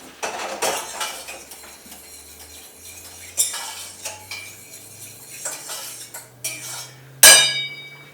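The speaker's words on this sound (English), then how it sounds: "Put it on the stove." A pot of salted rice and water is handled and set on the stove, with metallic clinks, a scrape and a final sharp clank of metal on the burner.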